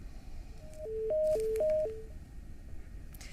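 Telephone line tones after a disconnected call: a short sequence of alternating pure beeps stepping between two pitches, clear and fairly loud over low line hiss, then fading back to faint background noise.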